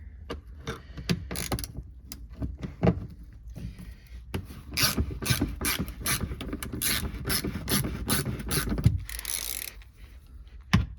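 A hand ratchet unscrews T30 screws under the bumper of an Alfa Romeo Stelvio, giving bursts of rapid close clicking with short pauses and a few scrapes between runs.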